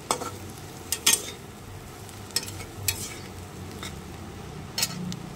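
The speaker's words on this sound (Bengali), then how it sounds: "এর মধ্যে এবার পাউরুটিগুলো যে টুকরো টুকরো করে কেটে রেখেছিলাম ওইগুলো হালকা করে নাড়াচাড়া করবে" Bread pieces stirred and tossed in a frying pan with a quiet, steady sizzle underneath and a few soft scrapes and clinks of the spatula against the pan.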